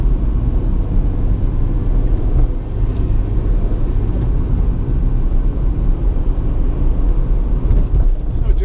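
Car interior while driving through Athens streets, a steady low road rumble and engine drone, loud and continuous with no distinct events.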